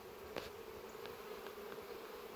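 A soft, steady buzz of many honeybees in a hive hums throughout, quiet and continuous, with a few faint taps and knocks.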